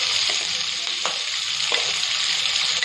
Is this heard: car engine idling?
no